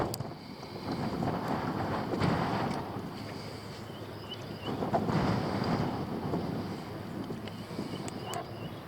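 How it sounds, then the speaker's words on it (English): Strong wind roars over the microphone on a small fishing boat during spring crappie fishing, a steady, loud rush that swells in gusts and never lets up, with no talk. "Get out of this daggone wind."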